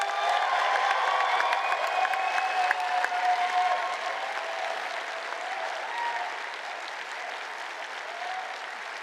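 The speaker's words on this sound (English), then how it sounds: "Let's give them a round of applause." A large graduation ceremony audience claps steadily, dense and sustained applause that gradually softens toward the end.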